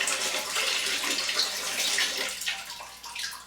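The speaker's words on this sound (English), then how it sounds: "So it's really easy to just drain them right off of the sprouts." Water being drained off a bowl of sprouts with floating hulls, a close, steady splashing pour and trickle that thins toward the end.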